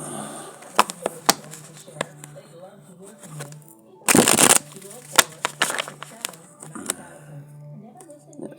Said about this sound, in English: Let's give these a good shuffle now